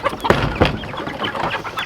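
Several chickens cluck and murmur close by, with a few sharper squawks breaking through the steady chatter.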